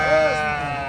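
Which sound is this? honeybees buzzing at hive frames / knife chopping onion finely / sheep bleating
sheep bleating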